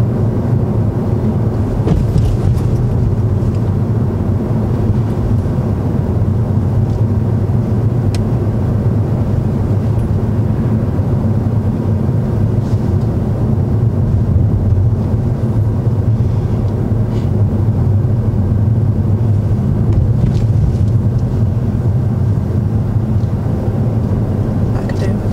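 A car engine drones low and steady while driving on a road during a driving lesson, with a constant rumble of tyres and road noise throughout and a person talking over it.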